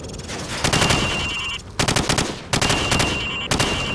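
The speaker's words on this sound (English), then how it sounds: "Now, shoot at the targets while firing from the hip." Rifle fire at targets on a Call of Duty 4 range, sounding as close, rapid bursts of automatic shots in three or four rattling volleys with brief gaps.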